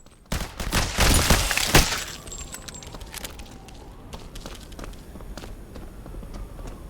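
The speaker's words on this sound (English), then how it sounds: "I like the sound of the footsteps." Footsteps in a video game demo, with a cluster of loud, sharp impacts early on giving way to a steadier run of quieter steps and clicks, alone with no talk.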